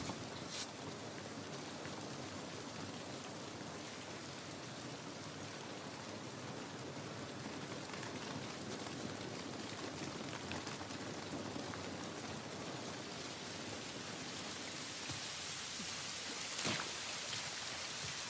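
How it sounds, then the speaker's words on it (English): Steady rain pours in The Last of Us Part 1, a dense, even hiss of drops on surfaces running the whole time, with a brief sharper splash near the end and no voices. "This rain ain't gonna do us any good."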